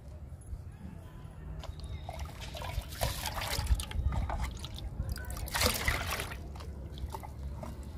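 Tea liquid poured onto potted chrysanthemum and rose plants makes a soft, uneven trickling and splashing that swells and fades over several seconds, close and quiet, with faint background noise.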